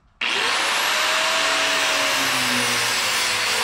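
A hose for a rear-steer rockcrawler buggy's plumbing is cut to length with a power tool that starts abruptly and holds a loud, steady whining roar close by, with no talking.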